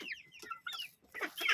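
A large rooster in a backyard hen coop gives a few close, loud clucks and throaty calls in quick bursts, with a short pause midway and no talking.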